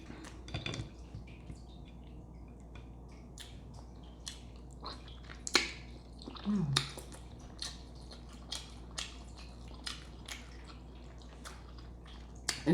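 Eating a boiled egg from a seafood boil, close, moist squishing and chewing with scattered soft clicks and smacks, quiet and sparse, with no talking.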